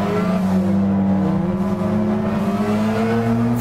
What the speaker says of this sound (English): from inside the car, it sounds like you're inside a big tank or a pot